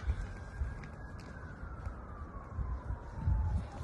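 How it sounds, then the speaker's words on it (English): Emergency vehicle sirens wail in the distance, a faint steady tone slowly falling in pitch over a constant rumble of nearby traffic or engine noise. "I'm hearing a bunch of sirens."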